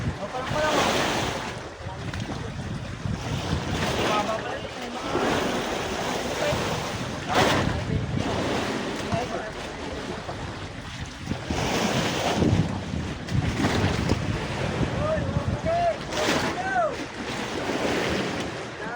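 Ocean waves and gusting wind on a boat far out on the Pacific, a steady broad wash with surges and buffeting wind on the microphone, and faint voices in the background.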